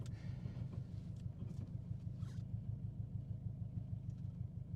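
A 2005 Subaru STi being driven, a deep continuous engine rumble heard from inside the car with wind noise and a few faint clicks over it.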